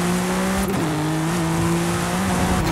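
A race car in a motorsport video game holds a steady, droning engine note, with brief tyre scrubs and a shift blip partway through, loud and continuous without speech.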